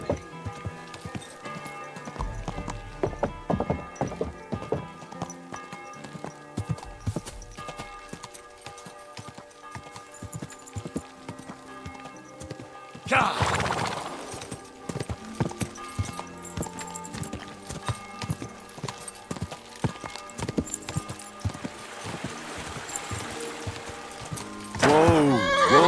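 Horse hooves clip-clop and a horse neighs in the medieval Bohemian world of Kingdom Come: Deliverance II, with game music and scattered voices around, a bright whinny bursting out near the end.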